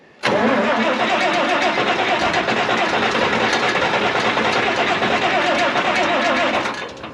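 A Farmall 706 Hi-Clear tractor engine cranks and catches, then runs loud and steady with a rough, chugging rumble before easing off at the end.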